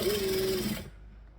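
A sewing machine back stitches along a bag seam, giving a brief steady mechanical whir with a tonal hum that stops after under a second and leaves faint room noise.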